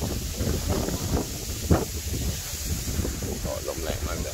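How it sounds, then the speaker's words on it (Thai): Strong wind gusts at a campsite around an MSR Zoic 3 tent, a steady, loud roar buffeting the microphone with rumbling low-end turbulence throughout, and a brief sharper gust midway. "ก็ลมแรงมาก"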